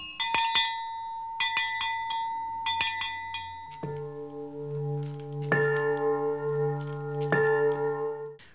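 Bells from a collection ranging from cowbells to cathedral bells: bright, rapid metallic chimes struck in quick groups, then deeper, sustained bell tones ringing out and overlapping, close and clear with no talking.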